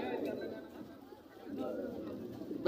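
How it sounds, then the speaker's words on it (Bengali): Bombay pigeons coo softly at a pigeon market, low murmuring calls rising and falling beneath nearby talking. "ওনার এখানে দুই জোড়া কবুতর দেখতে পাচ্ছেন আপনারা একজোড়া হলো বোম্বাই"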